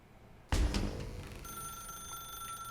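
Telephone in The Stanley Parable rings after a sudden loud clatter, then keeps up a steady electronic ringing tone over a dim room hum.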